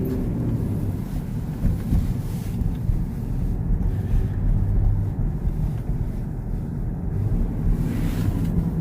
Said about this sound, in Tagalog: Driving 20 kilometer per hour.